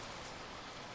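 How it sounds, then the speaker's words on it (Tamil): Steady rain falls in an animated scene, a dense, even hiss of drops with no pauses, faint and constant. "மழை நிக்கிற மாதிரியே தெரியல."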